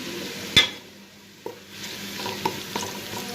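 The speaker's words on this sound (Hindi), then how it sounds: "तो ये हमारे प्याज हो रहे हैं ब्राउन।" Onions browning in a pan: a low sizzle under several sharp stirring clinks and scrapes, the loudest near the start, heard close with no voices.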